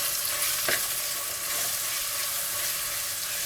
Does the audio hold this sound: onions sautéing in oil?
yes